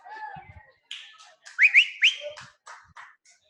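A person whistles a short, warbling run of notes with a few sharp upward-sliding peaks, close and fairly loud, with brief pauses between phrases and no talking.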